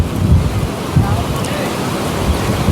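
Sea surf at a river mouth on the Odisha coast near fishing boats, a steady low wash with gentle swells and wind buffeting the microphone.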